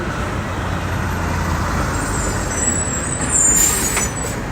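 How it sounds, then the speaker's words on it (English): Dense New York City street traffic fills the air with a constant engine rumble and rushing noise, rising slightly as a heavy vehicle passes, a faint hiss near the end. "Look at all this freaking traffic."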